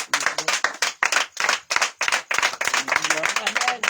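A congregation at an evening prayer service in Yamoussoukro claps in a quick, uneven rhythm of close, loud hand claps, with voices talking underneath.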